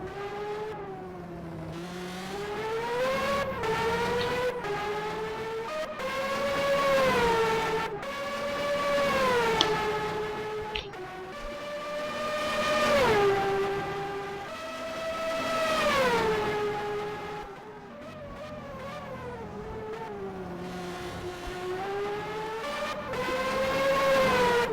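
Several DTM race cars scream past with high-pitched engines rising and falling, one after another in steady Doppler sweeps, loud and mostly free of talk.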